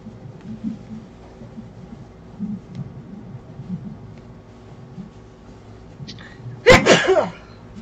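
A single loud, sharp sneeze bursts out near the end, following several seconds of quiet room tone with faint low murmuring, in a home sewing session making grocery tote bags.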